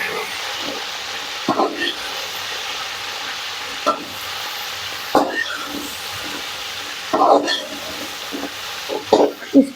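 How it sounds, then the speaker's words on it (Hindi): Okra with salt and turmeric sizzles steadily in a pan, moderately loud, with a few scraping stirs spread through the clip and someone talking faintly in the background. "इसको हम इतनी देर फ्राई करेंगे भिंडियों को जितनी देर इसकी जो लेस है लेस ख़त्म ना हो जाए"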